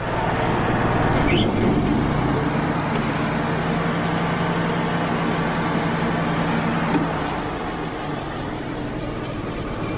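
A diesel engine on a Wood-Mizer sawmill runs steadily at a constant, loud drone throughout, with no voices.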